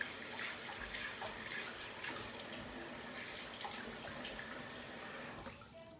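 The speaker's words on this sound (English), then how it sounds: "So I'm gonna have to turn the water on in between." Tap water runs steadily into a sink during a travel wet shave with a Merkur 34C safety razor and Proraso Red cream, a continuous rushing stream up close that cuts off abruptly near the end.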